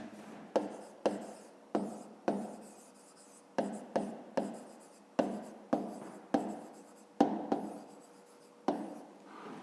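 Pen strokes on paper, a dozen or so quick scratchy marks in an irregular rhythm, close and fairly loud with no talking.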